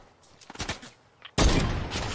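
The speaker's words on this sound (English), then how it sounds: "Oh, someone's shooting at me." Burst of gunfire in the Fortnite video game, a loud sustained volley of rapid shots cutting in abruptly after a quiet stretch with a few faint clicks.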